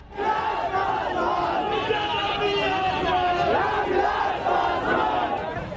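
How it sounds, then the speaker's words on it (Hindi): A dense crowd at an RJD political campaign rally in Gopalganj shouts and chants in unison, loud and sustained throughout, with overlapping voices and swelling cries. "लोगों की भीड़ उमड़ आती है।"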